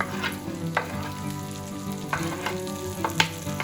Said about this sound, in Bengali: তো এর মধ্যে আমি রসুন আর পেঁয়াজগুলো দিয়ে দিব এবং সতে করে নিব।